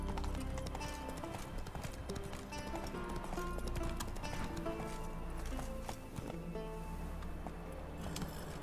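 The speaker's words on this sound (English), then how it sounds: "That's it, Roach" Horse hooves galloping in Witcher 3: a steady, rapid clip-clop of hoofbeats over in-game background sound, moderately loud.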